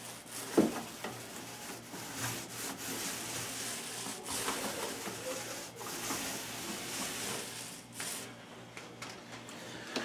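Paint roller spreading a second coat of paint over a primed drywall wall in a new closet, a faint, steady soft rubbing and sticky rolling sound repeating in strokes, with no talk.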